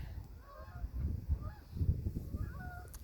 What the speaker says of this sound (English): Some geese flying and honking now.